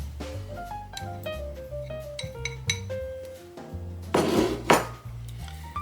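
A spoon stirs sourdough starter inside a jar, clinking and ringing against the glass in an uneven run of close, bright taps, with a couple of louder scraping knocks near the end and no talking.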